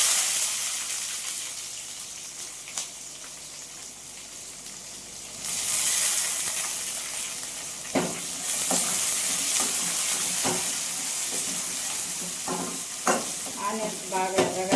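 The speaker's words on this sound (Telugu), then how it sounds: "ఆనియన్స్ బాగా ఎర్రగా వేయించుకోవాలా." Chopped onions fry in a pan with crushed garlic and curry leaves for dal, giving a continuous close sizzle. Spoon-stirring scrapes and clatters punctuate it, and the frying grows louder partway through.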